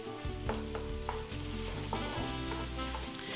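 Peppers stir-fry in a large sauté pan with a loud, continuous sizzle. Periodic tossing and scraping strokes sound through it, and no one talks.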